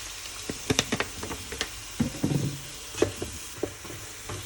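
Water poured into a Thai pumpkin and egg stir-fry with light soy sauce in a pan, heard as faint sizzling with scattered scraping stirs and brief clinks, quiet and close with no talk.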